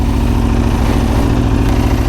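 A superbike motorcycle engine runs steadily and loudly up close, a continuous throbbing idle with a fast, even pulse and no voices over it.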